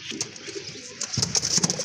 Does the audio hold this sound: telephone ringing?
no